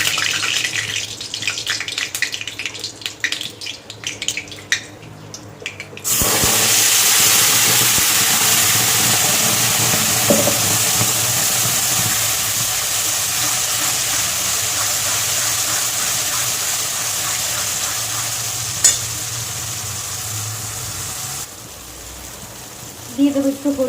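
Raw banana peel, green chilli and garlic paste hits hot oil in a wok in a village kitchen: after a few quiet seconds a loud, steady sizzle bursts in, holds for about fifteen seconds, then stops abruptly.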